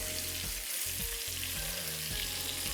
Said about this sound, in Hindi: जो भी प्रोटीन आप फ्राई कर रहे हैं वो कम तेल में इसी तरह करें, शैलो फ्राई।